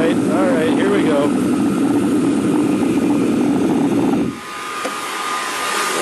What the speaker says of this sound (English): hair dryer is a little overpowered, barely had time to blabber at all, and it's all melted already